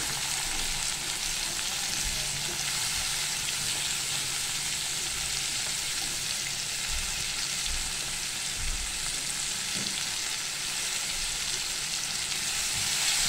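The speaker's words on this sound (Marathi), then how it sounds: "अशा प्रकारे आता आपण कांदा परतून घेतो." Finely chopped onion sizzling in a pan with garlic already browned, a steady, close crackle and hiss of frying that runs without pause.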